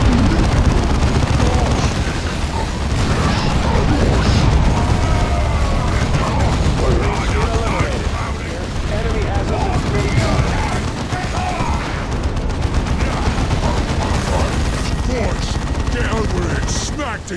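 Dense, continuous gunfire and explosions in the Warhammer 40000 Dawn of War 2 video game, loud rattling volleys and booms throughout, with voices shouting over the battle.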